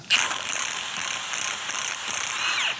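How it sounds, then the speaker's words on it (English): Ratchet wrench loosening a nut on a GM truck idler pulley clamped in a vise, a quick, close, continuous clicking of the pawl with no voices. "We got the idler in the vise now, so we can remove this nut."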